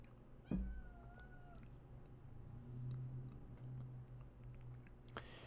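A house cat lets out a short, quiet meow early on, with faint ticks and soft background noise in a room, then a brief rustle near the end.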